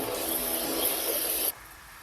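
A spray can hisses steadily over a 56 Ford F-100 drag RC truck body being patina painted outdoors, one continuous close burst of about a second and a half that cuts off abruptly.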